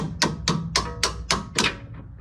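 Six sharp metallic taps of a hammer strike in an even rhythm on an RX7's suspension during coilover installation, close and fairly loud, with nothing else in between.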